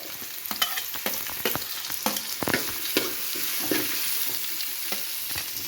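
Beef stirred in a pan with ginger garlic paste, shallots, curry leaves and chili for a Kerala-style beef roast, giving a steady sizzle broken by repeated scraping spoon strokes, close and fairly loud, with no voices.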